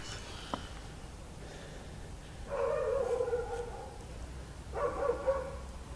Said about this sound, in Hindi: जानवरों की आवाज़ें आना भी शुरू हो गई।